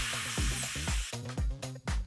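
Airbrush gun spraying tattoo ink: a faint, steady airy hiss under a series of low rhythmic pulsing clicks.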